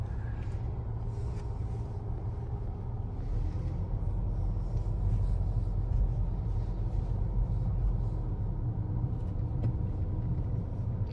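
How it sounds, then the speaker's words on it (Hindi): Steady low engine rumble heard from inside a car driving near the Peace Arch at the US border crossing, continuous and fairly loud throughout with no talking. "गाड़ी मैं बढ़िया चला रहा हूँ यहाँ पर"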